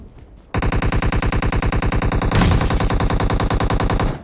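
Automatic gunfire in the mobile battle royale game PUBG Mobile erupts after a short quiet moment and continues as a rapid, loud, evenly spaced burst of shots to the end.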